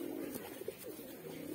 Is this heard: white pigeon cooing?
yes